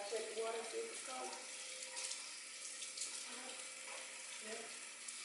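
Cold tap water running steadily from a faucet to wash skinless salmon, a soft continuous hiss close by with faint voices in the background.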